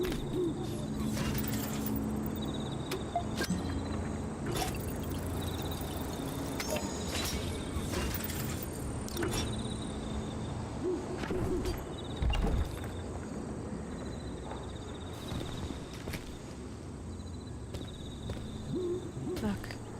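An owl hoots softly in the video game Atomic Heart (Blood on Crystal DLC), faint repeated calls set within a steady ambient bed of insect-like hiss and low game noise.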